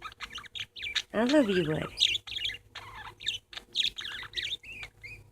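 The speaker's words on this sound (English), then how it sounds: "Oh, I just love these birds." Pet parakeets named Sunny Sunday, Blue, Winter and Willow chirp and tweet in quick, close bursts throughout, with a voice talking over them midway.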